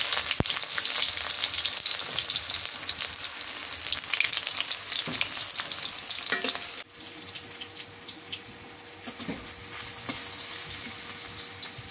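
Bay leaf, small cardamom pods and cinnamon crackle in hot oil for a fish kalia, a loud steady sizzle with sharp spits and a few utensil clinks, dropping to a quieter hiss partway through; no talking.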